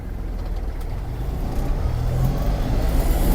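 A Kubota KT-27 mini tractor with a cab drives along, its engine droning steadily and growing slightly louder as it shifts up through second into third gear, close and continuous.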